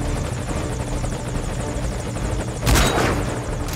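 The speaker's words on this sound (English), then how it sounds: "Get on the chopper." A helicopter in the video game Metal Gear Solid V: Ground Zeroes whirs with steady rotor chop, joined near the end by a sudden louder burst like an explosion or gunfire, with no talking.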